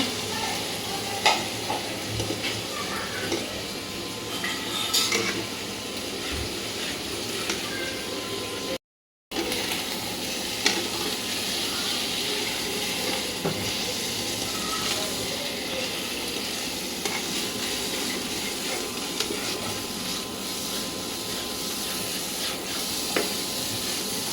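Crumbled tilapia fish frying in a pan with a steady, dense sizzle and hiss, broken by occasional stirring scrapes, close and continuous apart from a brief gap.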